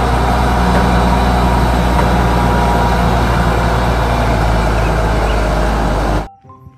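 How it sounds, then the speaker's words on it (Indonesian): Large excavator, probably a toy or model, with a loud, steady, low engine drone close by, idling evenly for about six seconds before stopping abruptly; no talking. "Eksavator besar."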